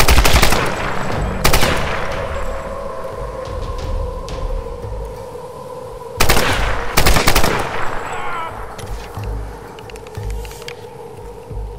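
Automatic rifle fire in Tomb Raider rattles in loud, close bursts, with separate volleys near the start and middle and a humming game ambience between them.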